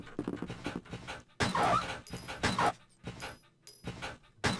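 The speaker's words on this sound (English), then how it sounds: "I'm being attacked by dogs." Dogs attack the player in the video game Resident Evil, with panting, snarling and whimpering growls in quick bursts alongside game sounds, moderately close and fairly quiet.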